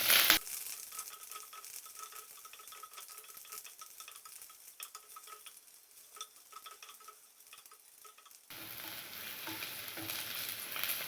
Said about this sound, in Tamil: கருவேப்பிலை எல்லாத்தையும் போட்டு நல்லா வதக்கிக்கலாம்